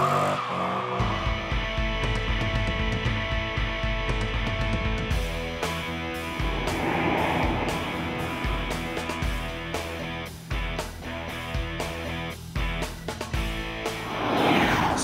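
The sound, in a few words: Dodge Charger SRT8 lapping Darlington Raceway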